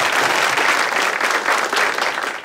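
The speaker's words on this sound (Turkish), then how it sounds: "Bir alkış arkadaşlar, çok güzel." Studio audience applauding steadily at a Turkish talk show taping, a dense close burst of clapping that holds for a couple of seconds and tapers slightly at the end.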